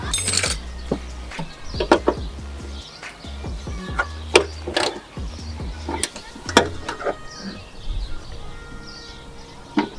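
Light metallic clinks and small rattles from screwing in the boot strut on a Ford Fiesta Mk6, with irregular taps and knocks close by and faint bird calls in the background.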